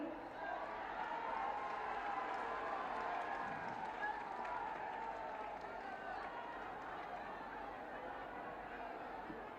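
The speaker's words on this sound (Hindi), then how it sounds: "आप लोग ताली बजा करके स्वागत करें" A crowd at a public rally in Maharajganj applauds to welcome the chief minister, a steady wash of clapping and crowd noise lasting throughout, fairly distant, with voices mixed in.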